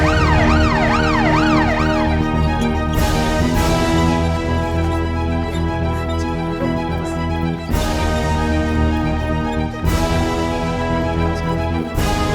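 An ambulance siren wails loudly and continuously, its rising and falling tone cycling over a dense bed of dramatic music, with no talk in between.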